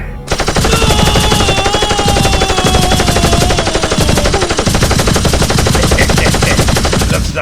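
Sustained rapid machine-gun fire in a cartoon, loud and continuous, a dense rattling volley running throughout with a wavering whistle-like tone above it.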